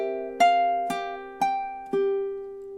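A ukulele plays a slow lullaby phrase, four gently plucked chords ringing out one after another at an even, unhurried pace, close and clear with no voice.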